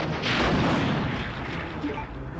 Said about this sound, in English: Gonna use that rocket launcher shot for one.